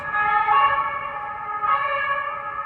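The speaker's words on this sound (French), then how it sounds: "Désolée pour les sirènes." Emergency vehicle sirens pass outside on a London street, a loud wailing tone rising and falling in two long sweeps, with no voices over it.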